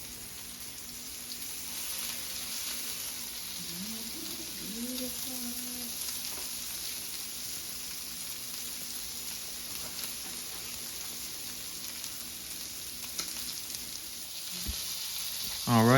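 Bacon-wrapped asparagus sears in a hot pan with a steady, close sizzle that runs unbroken under some scattered clatter. A voice can be heard faintly partway through.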